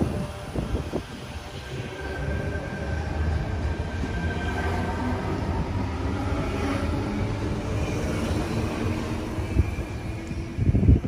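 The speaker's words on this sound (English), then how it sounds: "Departing from platform 2, we have T53 and Glen." A train departs from platform 2 at Loftus station: a steady low rumble of wheels and motors builds and holds, with faint high tones over it, and a few louder clunks near the end.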